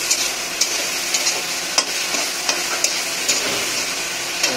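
Chili sauce stirred into pasta in a frying pan, with a steady sizzling hiss broken by sharp scrapes and clicks of a utensil against the pan at irregular intervals.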